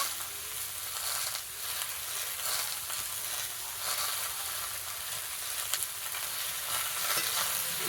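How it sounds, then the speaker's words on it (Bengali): Steady sizzling of bottle gourd frying in an oiled pan, stirred now and then, a continuous close hiss with faint scraping and one small click near the end. "ভাজা লাগে না তো আমি একটু নেড়ে চেড়ে"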